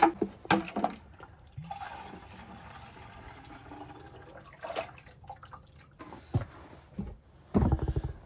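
Water running into calf feeding bottles on a farm, a soft gurgling fill with intermittent splashes and clunks of handling, close and fairly quiet, with brief louder knocks near the end.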